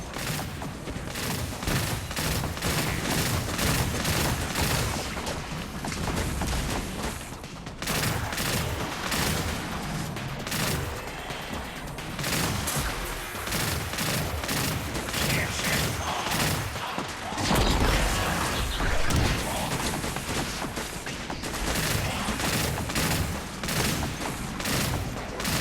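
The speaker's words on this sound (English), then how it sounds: "I retaliated by shooting bolts of arc energy from my shield, blinding them and purging everything" Rapid bursts of arc energy bolts fired from a shield in the mobile game Destiny Rising, with dense, loud crackling volleys repeating steadily throughout amid other combat noise.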